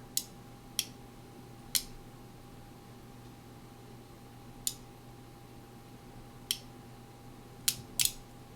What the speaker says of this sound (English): I can hear that deck clicking off there